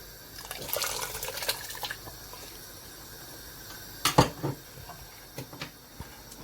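Liquid splashes and trickles into a pot of jollof rice in brief bursts, with a louder pour near the end, over a low kitchen background.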